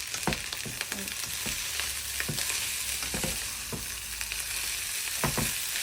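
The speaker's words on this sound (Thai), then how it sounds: "กลับด้านนะครับ ให้ซอสมันไป เข้ากับข้าวที่ทั่วกันนะครับ" Fried rice with corn, egg and tomato being stir-fried and tossed with sauce in a hot pan, steady loud sizzling broken by repeated scraping and clattering strokes of the spatula, with no talking.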